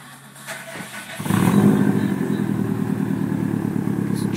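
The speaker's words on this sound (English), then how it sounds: "showing off the Megan exhaust." A 2008 Subaru STI with a turbo-back Megan exhaust and downpipe idles with a deep, throaty exhaust burble, then revs up sharply and settles into a loud, steady rumble close by.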